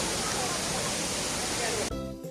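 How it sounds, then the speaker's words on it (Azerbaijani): The Asma waterfall in Sheki, Azerbaijan pours with a steady, dense roar close by, a broad continuous rush that ends abruptly near the end, leaving only quieter background. "Bax, bu şəlaləyə gəldik."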